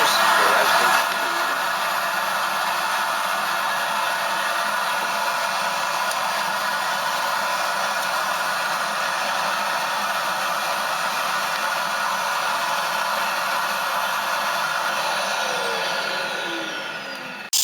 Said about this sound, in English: We approach it with the vacuum cleaner,